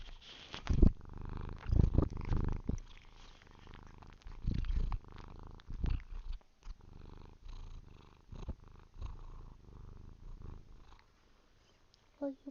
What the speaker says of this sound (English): Oh, purring.